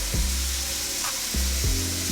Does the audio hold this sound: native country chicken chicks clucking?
no